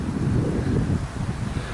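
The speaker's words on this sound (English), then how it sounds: "it's awfully windy today." Gusty outdoor wind buffets the microphone in a steady low rumble, loud and continuous throughout with no talking, at a hand-pumped tent water well.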